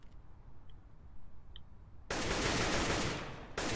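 Pistol fire in a Counter-Strike match on the Overpass map: faint isolated clicks at first, then a sudden loud, dense volley that runs to the end with one short break; no talk.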